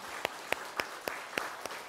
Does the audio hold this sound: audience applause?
yes